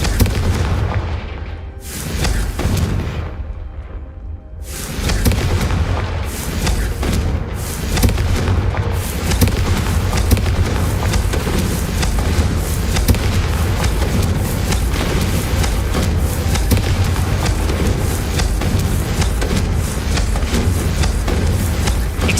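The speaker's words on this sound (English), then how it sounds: "Confringo! That's it!" Booming fiery blasts of the Confringo spell in the Hogwarts Legacy video game, a few heavy explosive bursts at the start followed by a sustained loud rumbling roar.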